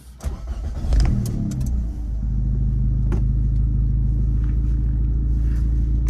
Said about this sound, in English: start the car and we'll go for a drive